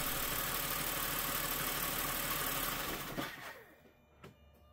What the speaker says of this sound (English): The BMW sounded a little loud on startup, but once the idle dropped down, it sounded better.